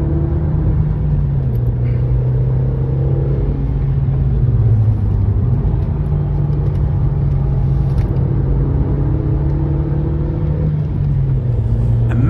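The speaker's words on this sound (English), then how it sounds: "That car is shifting." A car revs and rumbles steadily on a race track, its engine note dropping briefly as it shifts gears, loud and continuous throughout.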